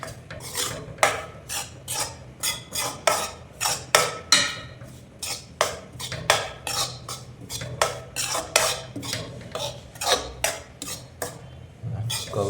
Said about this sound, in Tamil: அப்படியே வந்து கிண்டிகிட்டே இருக்கணும்